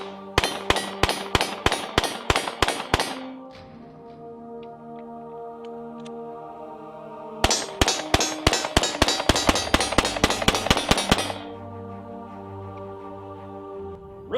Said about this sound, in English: Let's keep pumping rounds through it and see how it goes.